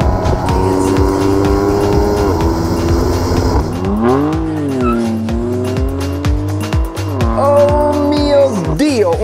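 A BMW M4 engine and exhaust revving hard, with rising and falling engine pitch through repeated throttle blips and gear changes, loud and close throughout.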